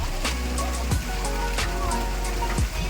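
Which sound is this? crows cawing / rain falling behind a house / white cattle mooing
rain falling behind a house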